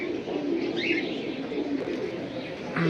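Military breed pigeons coo softly at close range, with a few brief chirps over a low background hum.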